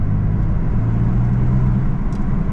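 A BMW M4 Competition fitted with an AWE SwitchPath exhaust, running in sport mode, gives a steady deep low rumble with a slight burbling texture, heard close and continuous without talk.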